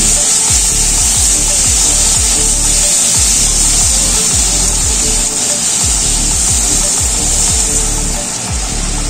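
Spices, yogurt and water stirred in a pan for white aloo dum, with a steady frying hiss and repeated scraping strokes of a spatula across the pan bottom, close and continuous.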